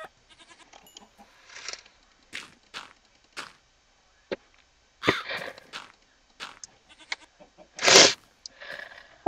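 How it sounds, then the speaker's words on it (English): A Minecraft goat bleats in short, scattered cries, with one louder, drawn-out bleat near the end amid quiet gaps. "A goat!"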